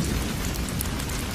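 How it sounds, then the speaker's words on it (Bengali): Heavy cartoon-style rain falls in a steady, dense hiss with a deep low rumble underneath, continuous and close throughout with no voices. "কিন্তু বৃষ্টি যেন কিছুতেই থামছিল না, আর বৃষ্টির ফোঁটাগুলো বাড়তে লাগলো।"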